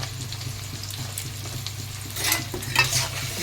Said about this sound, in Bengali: পেঁয়াজটাকে একটু খুব ভালো করে ভেজে নেব